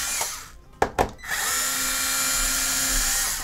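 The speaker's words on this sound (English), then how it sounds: "You don't need an electric screwdriver, but it makes it 100 times easier." Electric screwdriver whirring in short bursts while backing out the green body screws on an Xbox One S console, two quick close-up pulses followed by a steady motor drone.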